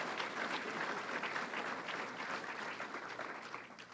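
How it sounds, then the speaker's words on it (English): Sustained applause from a crowd at the opening ceremony of the 172nd Great New York State Fair, dense steady clapping throughout that thins slightly toward the end, with no voices over it. "That's worth a round of applause."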